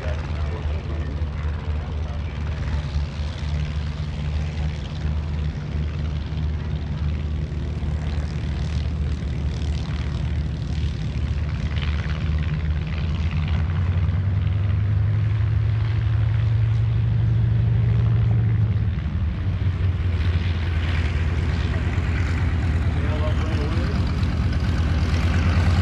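Light L-bird propeller airplanes flying in trail formation at a World War II weekend air show, a steady continuous engine drone with a deepening pitch shift, loud and unbroken throughout.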